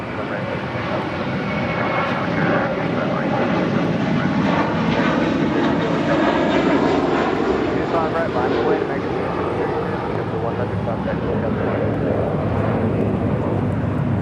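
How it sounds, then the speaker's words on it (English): A JetBlue Airbus A321 taking off at LAX, a sustained loud jet roar that holds steady and rises slightly in tone over about fourteen seconds, continuous and fairly close. "This is JetBlue Airways Flight 100 departing to Fort Lauderdale on an A321."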